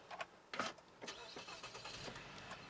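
Jeep Renegade engine noise with a steady low hum and intermittent revving surges, faint and muffled, with no voices.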